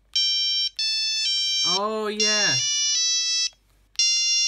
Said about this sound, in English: This is what people kind of use for making songs on these old Nokia phones.